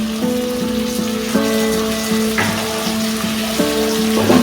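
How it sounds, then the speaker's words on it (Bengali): Chopped tomato lands in a pan of frying onion and garlic, giving a close, continuous sizzle with a few brief spatters and stirring sounds; nobody speaks. "এরপর আমি টমেটো কুচিটা দিয়ে দিলাম।"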